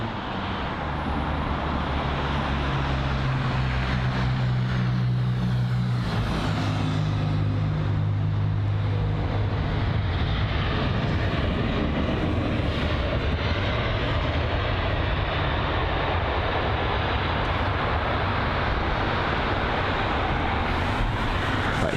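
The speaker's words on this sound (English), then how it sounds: "So here's the BA A320neo from Hanover." British Airways Airbus A320neo airliner arriving from Hanover at London Heathrow, a continuous loud broadband roar with low humming tones in the first few seconds, holding steady throughout.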